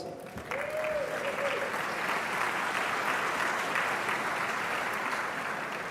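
Sustained audience applause at a business energy forum held with the Atlantic Council, a steady dense wash of many hands clapping at even loudness, with a brief tonal sound near the start.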